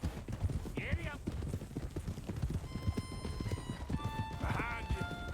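In the video game Red Dead Redemption 2, a horse's hooves clip-clop in a quick rhythmic gallop over a steady bed of game sound, with two whinnies and a voice talking over it.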